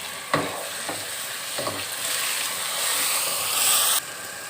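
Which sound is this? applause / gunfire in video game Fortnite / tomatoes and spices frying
tomatoes and spices frying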